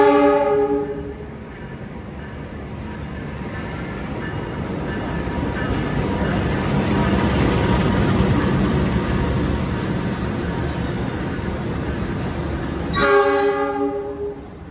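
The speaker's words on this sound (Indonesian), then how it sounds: "Oke, jadi ini dia kereta kita" A train pulls into Surabaya Gubeng station with a loud horn blast at the start, then a long rising rumble of wheels and carriages rolling past, ending in a second horn blast with no voices.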